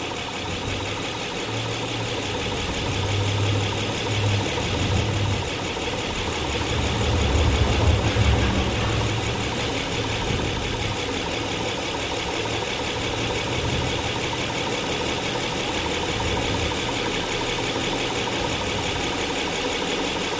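A Honda engine from a Pilot, MDX or Odyssey with multiple fault codes idles steadily right next to the microphone, a continuous low rumble with slight swells and no talking.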